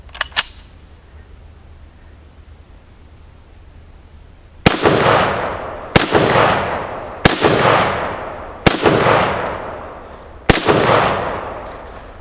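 A Tula-built 1953 SKS rifle fires five loud, sharp shots roughly a second apart, each one ringing out in a long echoing decay, after some quiet handling clicks.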